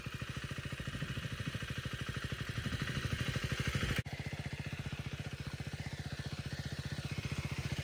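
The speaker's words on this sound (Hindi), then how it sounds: "ये बाइक पे चला है बड़े आराम से" KTM Duke 390 motorcycle ridden slowly nearby, its single-cylinder engine putting out a steady, rapid low thumping pulse at an even pace, briefly dipping once midway before resuming, loud and continuous with no talk.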